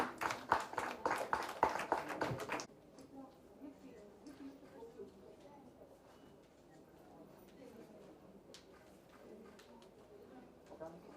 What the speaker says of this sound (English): Give the little ones a round of applause.